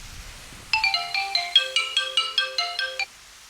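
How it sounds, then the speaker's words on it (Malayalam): A phone ringtone plays a quick electronic melody of bright, repeating beeping notes for a few seconds, then stops; fairly quiet and close. "ഫോൺ വിളിക്കുന്നു"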